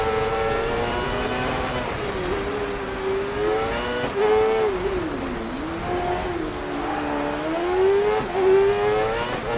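A rally car engine in DiRT Rally 2.0 revs hard on the throttle, its loud, close whine rising and falling steadily with the revs and changes of gear, alone, with no talk.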